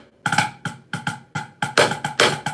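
Drumsticks play a split shot pattern, a short run of sharp, close strikes in an uneven rhythm with a few heavier hits, unaccompanied by voice.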